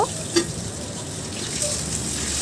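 Crispy fish fries in hot oil, a steady, loud, close sizzle that hisses on without a break.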